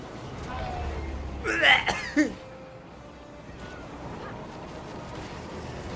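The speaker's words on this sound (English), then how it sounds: "He's coughing blood." A game character in Guild Wars 2 coughs in two short, harsh bursts close up, over a low constant ambient rumble.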